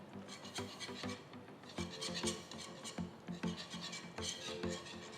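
Cheese slices are stirred into a thick, creamy vegetable au gratin sauce in a pan, giving a close, steady scraping and rubbing of the spoon in repeated strokes, with no talk.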